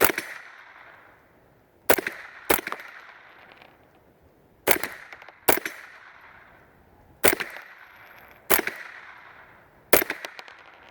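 .22 Long Rifle rounds strike a steel tank plate outdoors, with about eight sharp cracks at irregular intervals. Each crack is followed by a short metallic ring that fades quickly, leaving quiet gaps between shots.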